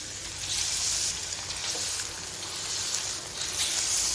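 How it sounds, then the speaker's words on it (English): Batter-coated fish fillets deep fry in about six tablespoons of oil in a pan, giving a continuous soft crackling sizzle, fairly quiet and steady, with no voices. "about 6 tablespoons of oil to deep fry the fish fillet"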